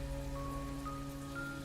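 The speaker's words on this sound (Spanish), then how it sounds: "Ese viernes llovía intensamente." Heavy rain falling as a steady, dense hiss with no breaks, accompanied by faint sustained tones.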